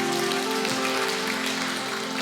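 A congregation applauds during a Sunday church service at IFGF Jogja, the clapping a dense, steady wash that runs throughout over sustained keyboard tones.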